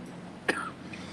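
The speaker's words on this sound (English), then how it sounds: "I got this weird cough going on." A single short, sharp cough from a man complaining of an odd cough, standing out once against a low steady background hum, with no talking around it.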